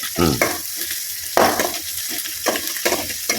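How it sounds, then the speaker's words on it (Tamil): Onions sautéing in a pan until brown for a bitter gourd curry, with crackling sizzle and repeated scraping stirs against the pan, close and fairly loud, no voices. "நல்லா வதங்கணும். ப்ரௌன் கலராக வரணும் வெங்காயம்"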